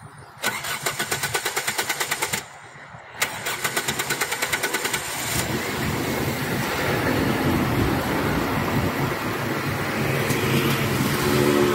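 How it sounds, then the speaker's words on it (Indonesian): A car engine cranks with a rapid, rhythmic starter churn in two attempts, then catches and settles into a steady, close idle running on alone. "Saya akan mencoba mesin ini, akan saya hidupkan"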